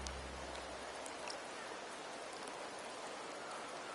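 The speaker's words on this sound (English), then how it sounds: "The rains in Septimont never seem eager to leave this season." Steady rain falling in Septimont in the video game Wuthering Waves, a dense even hiss of drops on surfaces that runs unbroken and moderately loud throughout.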